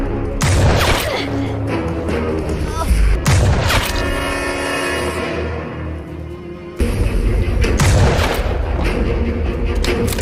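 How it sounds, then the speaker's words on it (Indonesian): Heavy gunfire rings out in a film shootout between a sniper and a drug dealer, with loud sharp bursts and booming shots. A denser volley opens the scene, the shooting eases in the middle, and another intense burst follows. "sehingga adu tembak pun berlangsung lama"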